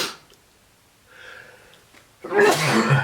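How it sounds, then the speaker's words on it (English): A man at a fly-tying bench gives a short inhale, then one loud, close sneeze bursting out near the end. "excuse me if I were to sneeze"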